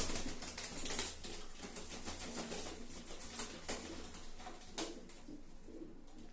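A male pigeon coos in a loft amid fluttering and shuffling from other birds, with soft repeated coos and rustles mixed into a busy, moderately faint background.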